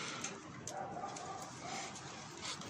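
A tumbler pigeon coos softly and briefly against a steady, noisy outdoor background with no talking.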